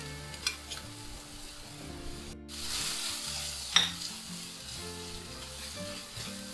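Crushed garlic, green chili, curry leaves and ginger sauté in a pan, a steady soft sizzle with occasional stirring scrapes and a brief clink, over quiet background music.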